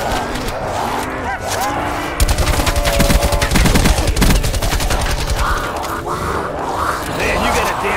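Automatic rifle fire from a Call of Duty Black Ops 4 campaign battle, rapid bursts that swell loud through the middle over a noisy combat bed, with a voice talking throughout.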